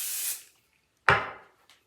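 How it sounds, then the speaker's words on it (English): Heat protectant sprayed onto a human hair wig: two short hissing bursts close to the mic, the first fading out, the second sharp and stronger after a pause, then a faint tail. "So let me spray my heat protectant again."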